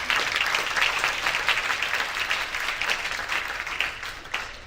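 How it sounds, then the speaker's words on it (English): A banquet audience applauds steadily throughout, a dense and fairly distant wash of clapping with a faint murmur of the crowd. "So give them another fantastic round of applause."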